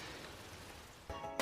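Steady rain falls outside, a dense even hiss of drops on surfaces that continues throughout, with a brief louder burst of sound near the end.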